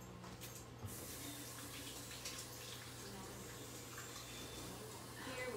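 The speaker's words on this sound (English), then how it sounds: "Gonna wash my hands" Water runs from a kitchen tap in a steady, faint rush while hands are washed under it, a low constant hiss that lasts throughout with a soft background hum.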